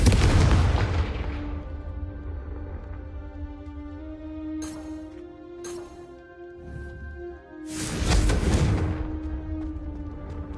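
A Confringo fire spell bursts in a Harry Potter video game on PS5, giving a loud opening boom, then a sustained ringing tone, short crackles and a second heavy blast.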